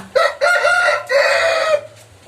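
A young rooster crows in a close, loud call: a short rising note, then two longer strained phrases, alone with no talk.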